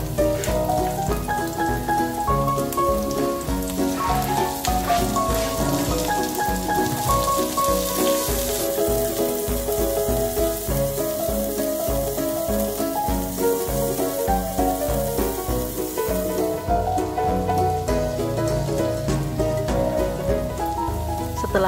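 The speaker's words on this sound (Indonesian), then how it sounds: "Kemudian, kita tumis sampai harum." A steady, dense sizzle of finely chopped spices sautéing in a pan, loud and continuous throughout with no talking.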